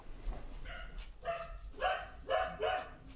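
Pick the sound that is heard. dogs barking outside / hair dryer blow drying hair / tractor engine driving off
dogs barking outside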